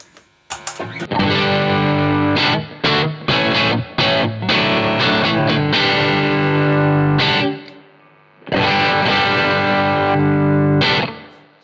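An electric guitar through the drive channel of a Blackstar St James tube amp plays crunchy chords and riffs, loud and thick, with a brief pause before strumming resumes.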